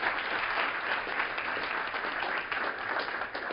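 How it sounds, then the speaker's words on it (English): Steady audience applause fills a lecture hall at the end of an academic talk on farmers' risk-taking in agriculture, a dense, even patter of many hands at moderate distance with no voices over it. "Round of applause."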